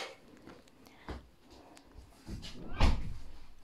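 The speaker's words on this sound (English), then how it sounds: "Close the door, please." A door is closed in a home with a solid thump near the end, after a few soft knocks and rustles, with faint background activity.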